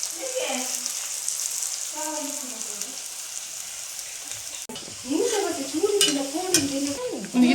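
Onions stir-frying with dry spice powder in a pan give a steady broadband sizzle with scraping stir strokes, while a voice talks over the cooking, louder in the second half.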